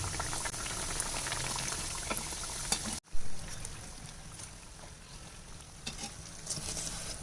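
Veg puffs frying in hot oil in a kadai, a busy steady sizzle and bubbling with a brief clunk partway through, after which the frying continues more softly.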